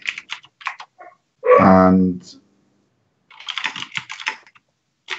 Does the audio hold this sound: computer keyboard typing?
yes